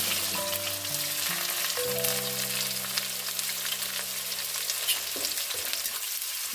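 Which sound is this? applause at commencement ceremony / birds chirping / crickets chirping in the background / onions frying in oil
onions frying in oil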